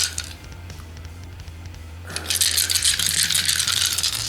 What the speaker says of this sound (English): let me just take the dice out of the little building I've got over here, and let's see how it sounds.